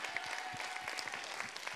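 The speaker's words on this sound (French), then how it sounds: "On peut encore l'applaudir." An audience at the Cap Cinéma in Montauban applauds during a live radio broadcast, a faint, fairly even patter of clapping heard alone for under two seconds.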